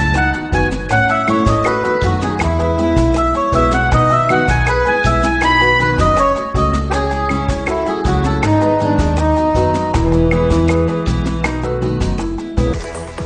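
A stock chart melody for Bank of America, arranged as a full accompanied song in Songsmith, plays loud and continuous with a steady beat and shifting chords.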